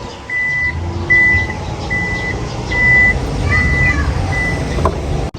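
Toyota Fortuner Sigma 4 (2022, 4x4) power tailgate closing and locking, with a repeating series of short, clear electronic warning beeps over a steady low mechanical hum, ending in a soft thunk.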